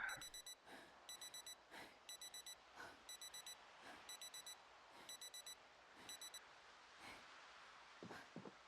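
Digital wristwatch alarm looted from a zombie in a survival video game, beeping in rapid repeated bursts of about four chirps each, a steady pulsing pattern over faint background noise, with no talk.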